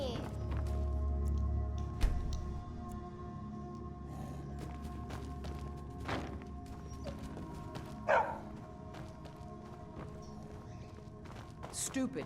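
A dog in the Skyrim video game gives a few short, scattered barks amid in-game footsteps and ambient sounds, with a voice talking around them.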